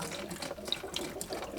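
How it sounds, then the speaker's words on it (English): Brown coolant draining out of a Farmall H tractor with the radiator cap left on to slow the flow, a faint trickling, splashing stream of liquid heard alone. "coolant that's coming out of there."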